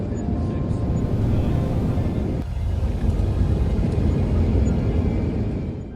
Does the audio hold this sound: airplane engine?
yes